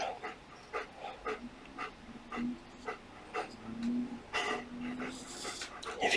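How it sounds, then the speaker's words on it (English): Dog panting in hot weather, quick rhythmic breaths in bursts with faint whimpery tones. Close but soft, alongside quiet indoor knocks and shuffling. "If you can hear any panting, that's not actually me, it's my dog."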